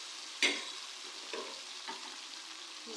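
Minced meat (qeema) is tipped into a pan of frying tomatoes, giving a sharp sizzling burst followed by a quieter hiss and a few soft stirring scrapes, close and without talk.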